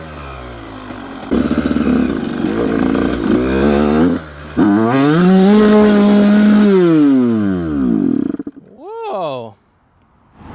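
Yamaha YZ85 dirt bike kick-started, catching on the first kick and running loud with rising revs, then bogging and cutting out abruptly near the end.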